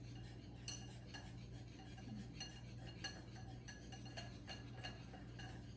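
Waffle batter being mixed in a bowl, with a utensil clinking repeatedly and irregularly against the bowl over a steady low hum. No voices are heard.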